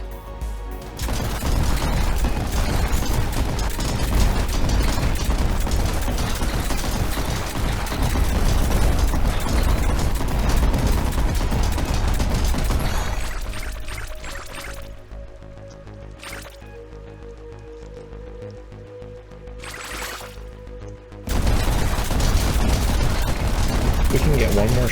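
Shotgun blasts and rapid weapon fire from the indie game RICE, a loud, dense barrage that thins into quieter tonal game effects and then surges back in at the end.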